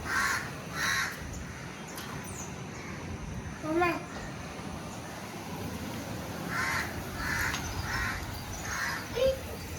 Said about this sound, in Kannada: ಅಲ್ಲಿ ಬರ್ಡ್ ನೋಡಿ ನೆಸ್ಟ್ ಮಾಡೈತಿ.